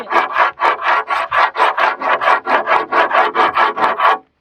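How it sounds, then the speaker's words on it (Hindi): Makrana marble edge scraped with another stone in a fast, steady back-and-forth rasp, about twenty gritty strokes close up, then it stops. "इस एज को आप कभी भी दूसरे पत्थर से स्क्रैच करके देखिए"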